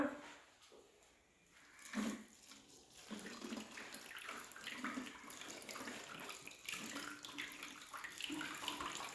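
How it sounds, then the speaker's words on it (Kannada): Water is poured into a plastic bottle pierced with three holes at different heights, giving a faint, steady splashing and trickling that runs continuously for several seconds. "ಈಗ ನೀರನ್ನು ಹಾಕೋಣ"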